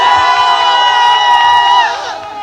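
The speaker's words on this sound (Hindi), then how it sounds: "तालियों सीटियों का हल्ला थोड़ा जोर से होना चाहिए।" A crowd at a nursing students' freshers party cheers loudly up close, with sustained shouts and whistle-like tones ringing over the noise for a couple of seconds before easing off.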